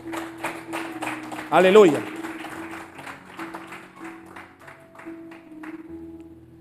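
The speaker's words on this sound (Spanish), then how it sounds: "Dale un aplauso al Rey de Reyes." Church congregation bursting into a short round of clapping and cheering, loud for about a second amid a preacher's ongoing speech and an exclamation from the crowd.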